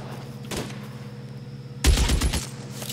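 Submachine gunfire from a Thompson in the crime video game L.A. Noire: a short burst followed by a louder, sustained rattle of rapid shots, close and punchy over a steady background hum.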